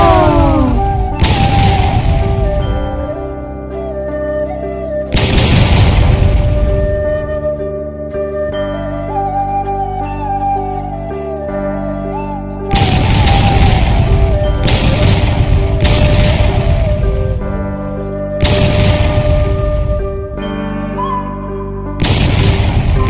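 Grenade blasts in the Free Fire battle game, a loud deep boom at the start, around five seconds and again near thirteen seconds, each followed by further heavy thuds over a continuous synth music bed.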